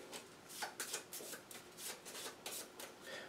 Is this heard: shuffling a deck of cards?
yes